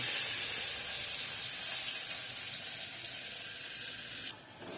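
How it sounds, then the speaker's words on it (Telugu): Onions and green chillies fry in hot oil with a loud, dense, even sizzle that fills the whole stretch, then drops abruptly to a quieter hiss near the end. "ఆయిల్ వేగాక ఉల్లిపాయ పచ్చిమిర్చి వేసి వేపుకోవాలి"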